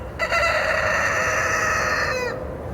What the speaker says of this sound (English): sorry if my rooster makes any friggin' loud noises